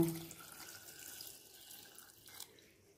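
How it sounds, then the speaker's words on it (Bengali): Water runs quietly into a pot of chicken and chana seasoned with salt, turmeric and garam masala, set to boil; a soft, steady trickle of about three seconds at a fairly low level. "জল দিয়ে সেদ্ধ করতে দেব"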